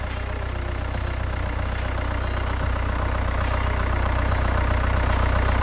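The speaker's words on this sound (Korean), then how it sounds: "엔진 소리 일정하네요" Steady low rumble of a Hyundai All New Tucson 1.7 diesel engine idling, even and constant throughout, close by, with no voices.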